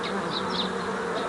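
Steady, dense buzzing of many honeybees crowded around a small mini-nucleus hive, a continuous close hum with a few individual bees whining past nearby.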